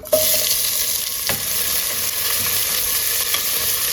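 Onions go into hot coconut oil with cinnamon, cloves and cardamom for a mushroom coconut milk biryani, setting off a loud, continuous, close sizzle with a light stirring knock, and no talking.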